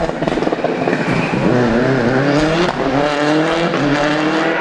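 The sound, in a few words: KPL rally car racing on stage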